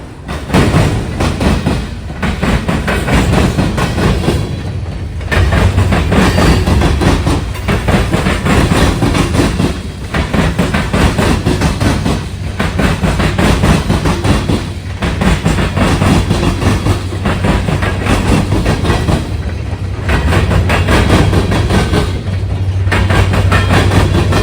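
Norfolk Southern local freight L38 rolls past on the line between Marion and Waldo, Ohio, loud and close, with rhythmic clickety-clack of wheels over rail joints and a steady engine drone throughout.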